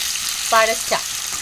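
Tomatoes sautéing in a hot pan, a continuous sizzle with a couple of short stirring scrapes, fairly close.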